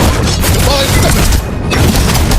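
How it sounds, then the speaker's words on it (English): A turret is destroyed in a video game, making loud, dense booming crashes and impacts in a chaotic, sustained burst of explosion noise. "Our turret has been destroyed."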